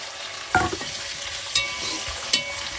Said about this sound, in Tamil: கருவேப்பிலை போட்டுட்டு இந்த வெட்டி வச்ச வெங்காயத்தை